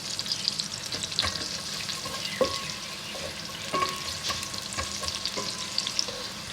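Coconut fries lightly in ghee while being stirred. A close, crackly sizzle runs throughout, with the spoon scraping and knocking against the pan every so often.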